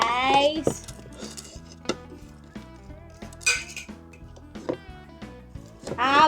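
Chicken rice being served onto plates, with scattered clinks and taps of dishes and utensils, close and fairly quiet, while people talk throughout.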